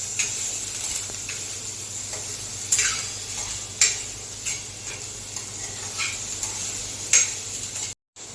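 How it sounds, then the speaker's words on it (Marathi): Onion sautéing in oil in a pan, a faint continuous sizzle with occasional light scrapes and taps of a spoon stirring, close and quiet, ending in a brief dropout. "कांदा जरासा पारदर्शक होईपर्यंत परतून घ्यायचा"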